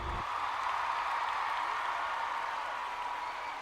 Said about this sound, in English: the crowd erupted in a standing ovation